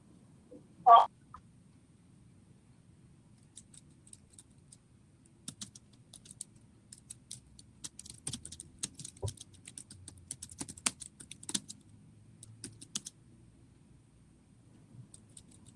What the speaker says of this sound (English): someone typed it in